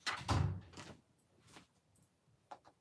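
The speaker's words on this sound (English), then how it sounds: "I heard Matthew's bedroom door open." A bedroom door in a house opening, with a soft thunk and a scrape early on followed by a few faint knocks and creaks, heard quietly at a distance.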